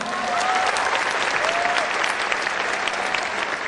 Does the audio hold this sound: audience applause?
yes